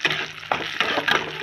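Assamese chicken curry sizzles in a hot pan after green chilies go in, a close crackling fry with a few stirring scrapes.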